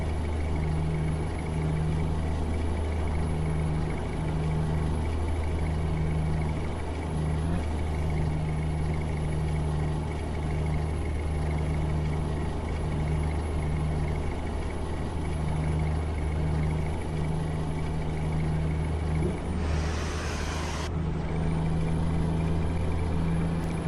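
Scania R420 truck pulling a trailer in Euro Truck Simulator 2, its engine a steady deep droning rumble throughout, loud and constant, with a brief rise in pitch near the end.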